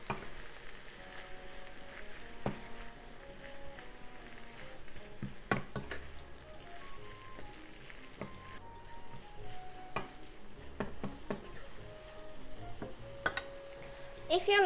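Bell pepper and tuna stir-fry in sesame oil with garlic paste and sake, a faint constant sizzle broken by scattered clinks and scrapes of a utensil against the pan.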